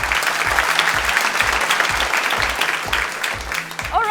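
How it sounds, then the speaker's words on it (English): A studio audience on a TV quiz show breaks into loud, sustained applause, a dense clapping wash over a steady rhythmic music beat, with a brief musical flourish at the end. "Let's give them a huge round of applause."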